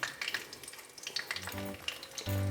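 Black mustard seeds and a dried red chili sizzle in hot oil for a sambar dal: a close, steady crackling fry with popping bursts, joined near the end by a low steady hum.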